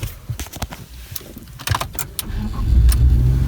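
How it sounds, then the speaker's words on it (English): A BMW E46 with a freshly replaced clutch and solid flywheel is started: a few clicks and clunks inside the car, then the starter cranks and the engine catches into a loud, steady idle. "Let me start the car."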